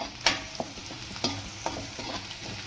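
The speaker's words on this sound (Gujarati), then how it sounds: "તો કાંદાને આપણું એકદમ મસ્ત રીતે સતોળાવે છે એમાં. અને ઘી લેજો, એટલે ઘીથી મસ્ત સ્વાદ આવશે." Onions sautéing in ghee sizzle steadily in a pan, with a spoon scraping and stirring at irregular intervals.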